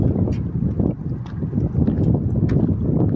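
Steady sea wind buffets the microphone in a low roar, with a droning boat-like rumble and occasional faint knocks.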